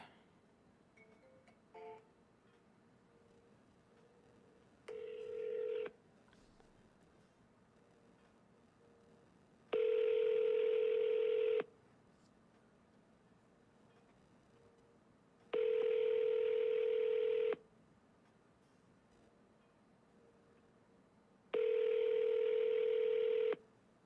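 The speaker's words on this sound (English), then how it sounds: "All right, let's call this guy back." A telephone keypad sends dialing tones as a call is placed, with a few short tone bursts followed by three long, evenly spaced ringback tones separated by quiet gaps, clear and without talk.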